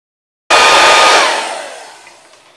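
A hair dryer switches on abruptly and blows a loud, steady whoosh of air to dry a watercolor painting of poppies, then gradually eases and fades.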